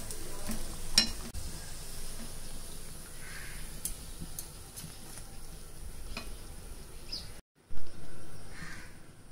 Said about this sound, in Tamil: இப்போ இதே போல் நம்ம எல்லாத்தையுமே ஃப்ரை பண்ணி எடுத்துக்கலாம்.